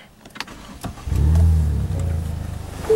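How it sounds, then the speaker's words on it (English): A 2013 Ford Fusion Titanium engine with a muffler delete cranks briefly and then catches, settling into a steady low idle rumble, close by with no voices. "we'll go ahead and start it up from the inside"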